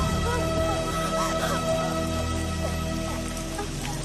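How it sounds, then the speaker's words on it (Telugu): Steady rain falling outdoors, a dense continuous hiss of drops on surfaces that holds at an even level throughout, with a constant hum underneath and no clear speech. "అయ్యో, వర్షం వచ్చేలా ఉండే."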